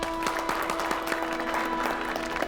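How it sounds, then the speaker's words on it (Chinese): Audience at a dance competition applauding to welcome a guest, a full continuous wash of clapping with a few sharper claps standing out and a faint sustained tone beneath it. "让我们以最热烈的掌声欢迎陈升先生"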